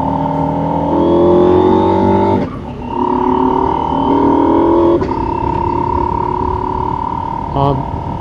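A 2024 Husqvarna Norden 901 Expedition motorcycle rolls to a stop in front of a driveway, its engine droning steadily with a pitch dip midway and a brief blip near the end, while someone talks over it throughout.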